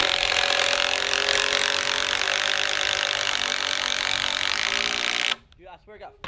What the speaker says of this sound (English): But this time I'm gonna actually use the triple hammer